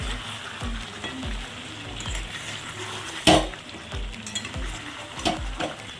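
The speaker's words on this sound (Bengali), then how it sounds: "আমি মাঝে মাঝে একবার নাড়িয়ে দেব কারণ আমি কাজু বাদাম দিয়েছি তলায় লেগে যাওয়ার সম্ভাবনা থাকে" Chicken and cashews being stirred in a pan while frying, with a steady low sizzle, repeated soft scraping strokes and one sharp metallic clink midway, close and without voices.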